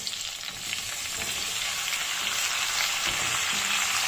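Tomatoes added to capsicum frying in a pan for a no-onion, no-garlic gravy, giving a dense, steady, close sizzle that holds evenly throughout with faint stirring.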